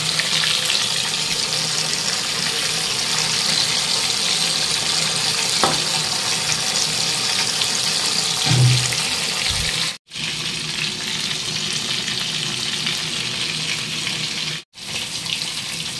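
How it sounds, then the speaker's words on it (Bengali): Fish fries in a pan with a steady, close, crackling hiss that runs unbroken for most of the stretch, apart from two brief silent gaps and a soft knock partway through. No one speaks. "মাছ ভাজতে দিয়ে দিয়েছি।"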